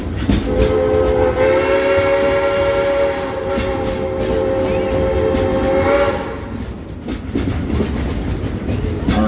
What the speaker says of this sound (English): we'd like to give a couple of train whistles in your honor